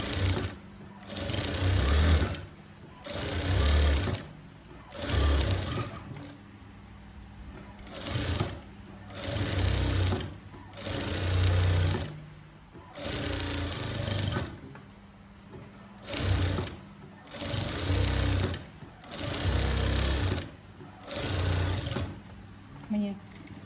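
Sewing machine running in bursts as it stitches the edge of a patchwork ethnic bag, a steady mechanical whir that starts and stops roughly a dozen times at close range, with no talking.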